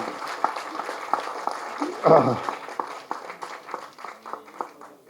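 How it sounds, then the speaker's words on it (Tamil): An audience at a Tamil film launch pooja claps for Raghu, a short burst of applause from a modest crowd with separate claps audible, while someone speaks over it and a loud thump lands midway. "அதுக்காக ஒரு தடவை கைதட்டு"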